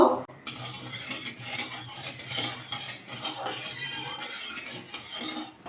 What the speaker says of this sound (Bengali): লবণটা দিয়ে তেলের মধ্যে ভালো করে মিশিয়ে নেব